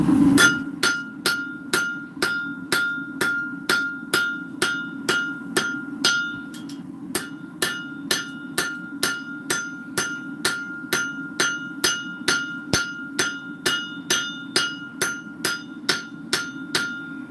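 Steady series of hard, ringing hammer blows on a knife blade to knock out dents, evenly spaced about every half second, loud and close with sharp metallic clang and no talk.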